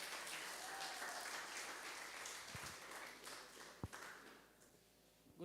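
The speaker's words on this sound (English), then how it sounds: "Let's clap for Auntie Debbie" An audience at a church camp meeting applauds in a continuous wash of clapping that slowly fades, with a couple of sharp taps near the end.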